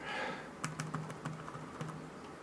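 Keys tapped on an Acer Aspire One 532h netbook running Windows 7 Starter, a short burst of about eight quick clicks in uneven rhythm, close and fairly quiet over a faint room hum.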